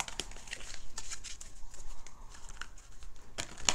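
Tarot cards being shuffled by hand, giving quick close riffling and flicking bursts at irregular intervals with soft rustles between, and no talk over them.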